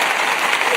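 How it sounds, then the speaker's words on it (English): Hand-clap applause sound effect played on a gossip and celebrity-tea stream, a short dense burst of clapping heard alone at steady moderate loudness. "let me do the hand clap, child"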